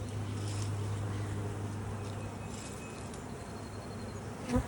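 Worker honey bees hum in an open spring hive, a soft, continuous drone with a faint steady tone underneath and a brief louder knock at the end.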